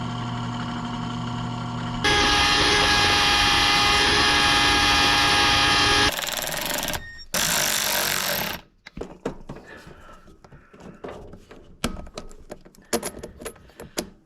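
A drill press with a broken switch runs with a loud, steady motor whine for about four seconds, then shuts off abruptly. Scattered clanks and knocks of shop work follow.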